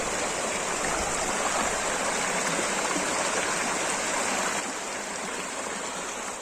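A forest stream runs down a hillside beside the highway between Nirmal and Adilabad, giving a steady, close rush of flowing water that continues without a break and eases slightly near the end.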